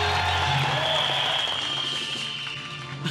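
Studio audience applause for contestant Huang Xinling on a Taiwanese TV variety show, a steady, fairly loud clatter over sustained tonal music that fades slightly toward the end.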